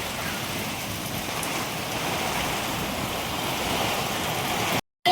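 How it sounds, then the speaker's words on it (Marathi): Heavy downpour roars steadily and loud as a dense, unbroken hiss of rain on surfaces, cutting to silence briefly near the end before resuming. "हे पाहू शकता तुम्ही किती मोठा भयानक पाऊस चालू आहे"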